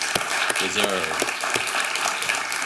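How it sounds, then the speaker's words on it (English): An audience at a climate change and cultural heritage symposium breaks into sustained applause, dense clapping filling the room while a voice speaks briefly over it. "I think a round of applause for what you've been able to pull together in a very short amount of time is"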